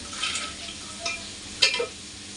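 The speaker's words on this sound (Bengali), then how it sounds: "আর বিনস আলু ভাজা বসিয়েছি" Beans and potatoes fry in a pan on a home stove, a soft sizzle underneath with a few brief scraping stirs, quiet and close, no talking.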